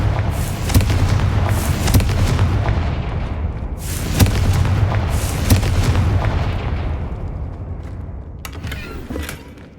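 Confringo blasting spells from a Gryffindor wizard in Hogwarts Legacy detonate as loud, booming fiery explosions, several heavy bursts spaced a second or two apart over a continuous rumbling din.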